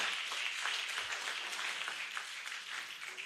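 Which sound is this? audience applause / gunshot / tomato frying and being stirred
audience applause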